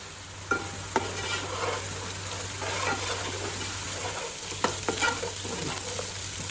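Curry leaves hit hot oil with onion and ginger paste for a fish curry, crackling and sizzling steadily while a spoon stirs and knocks against the pan a few times, over a low hum.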